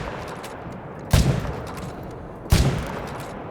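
Two loud rifle shots fired at bucks in a hunting video game ring out about a second and a half apart, each a sharp crack with a rolling tail, over a steady outdoor ambience.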